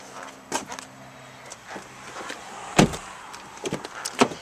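A car door shuts with a solid, close thud, surrounded by a few lighter knocks and clicks from the cabin.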